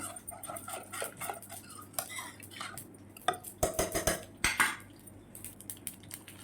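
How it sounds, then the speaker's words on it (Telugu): A spoon mashes cooked lentil dal made with tella galijeru greens and salt in a metal pot, giving repeated clinks and scrapes in an uneven rhythm, close and fairly loud. "ఇప్పుడు ఉప్పు కూడా వేసుకొని పప్పులో బాగా మళ్ళీ మెదుపుకుంటున్నాను నేను"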